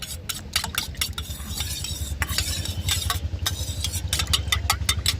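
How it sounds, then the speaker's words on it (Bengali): A spoon stirs a homemade liquid of vinegar and coconut oil in a pot, giving a steady, close run of light scraping and clinking strokes over a low rumbling background, with no talking. "এবার খুব ভালোভাবে এটাকে মিশিয়ে নেব।"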